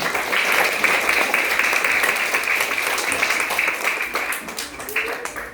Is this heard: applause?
yes